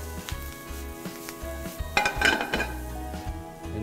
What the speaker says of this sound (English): To that, we're gonna add mushrooms, a little bit of fresh thyme. We'll toss them a little bit.